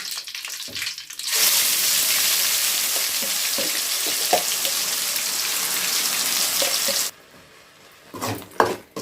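Ground masala paste hits hot oil with curry leaves, bursting into a loud, steady sizzle that holds for several seconds, then cuts off abruptly and gives way to a few sharp clinks and scrapes near the end.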